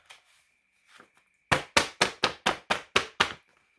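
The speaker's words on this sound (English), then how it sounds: "Suddenly, fists pounded on the door." Fists pound on a wooden door in a rapid burst of eight heavy, evenly spaced thuds, close and loud, following a couple of faint softer knocks.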